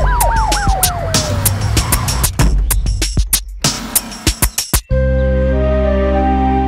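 An ambulance siren wails in rising and falling sweeps at the start, followed by a burst of sharp clattering hits, then a loud sustained droning tone, all close and with no voices.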